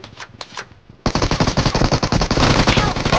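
Rapid automatic gunfire in PUBG Mobile, a few scattered shots at first, then a dense, loud, sustained burst of fire filling the rest of the moment without any talk.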